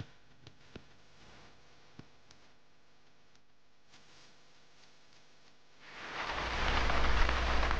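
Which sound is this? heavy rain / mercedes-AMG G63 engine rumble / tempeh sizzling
heavy rain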